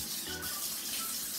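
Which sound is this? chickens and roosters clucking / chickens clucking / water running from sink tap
water running from sink tap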